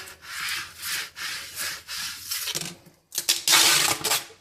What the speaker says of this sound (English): take your squeegee, rub the decal down.